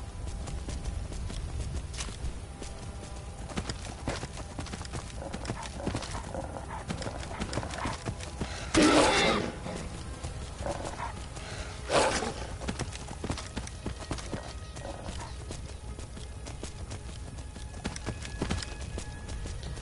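Hooves of a skeleton horse in the Skyrim video game, a steady clip-clop of walking or trotting with a couple of louder whinny-like bursts, fairly quiet, no talking.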